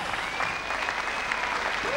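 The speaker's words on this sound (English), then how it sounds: "Please encourage Rambi with a warm round of applause." Applause from the audience at the 2003 South Pacific Games opening ceremony in Fiji, a dense, steady wash of clapping throughout, with a faint tonal whistle or feedback line running above it.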